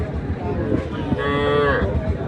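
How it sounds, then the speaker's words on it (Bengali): Young calves, local heifer calves about four or five months old, moo at a village cattle market; a few drawn-out bellows sound close and loud over a steady crowd murmur. "দর্শক দেখেন এখানে আমরা অনেকগুলো বাছুর দেখতে পাচ্ছি"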